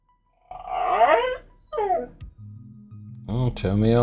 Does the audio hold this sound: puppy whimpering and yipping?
yes